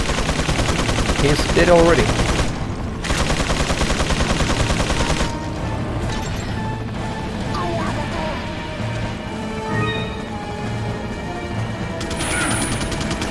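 Minigun fire in Resident Evil 4, a dense rapid burst of gunfire and crashing impacts up close, with someone talking over it.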